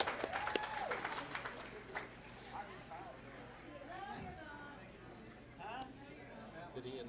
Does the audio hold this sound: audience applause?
yes